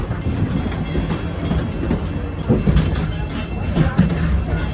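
A Wildlife Express train at Disney's Animal Kingdom rolls close by with a steady, low rumble and faint clatter of its wagons, continuous throughout.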